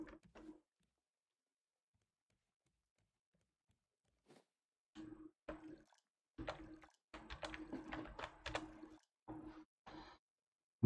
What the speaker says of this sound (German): So, ich gehe mal um unsere Kartoffeln und Rüben gießen.